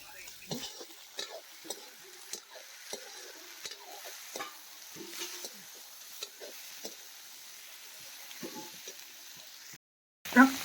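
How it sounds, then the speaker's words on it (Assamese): Pork frying in a pan over a wood fire is stirred repeatedly, with scraping and clinking strokes over a low, steady sizzle, close by, ending in a brief louder knock. "তাকে ঘনাই ঘনাই লৰাই থাকিব লাগিব, জুইত বনাইছোঁ যে সেইটো কাৰণে জলদি মানে লাগি ধৰিছে তলত।"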